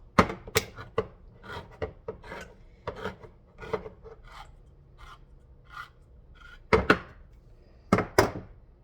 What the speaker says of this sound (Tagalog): Itong can opener ko.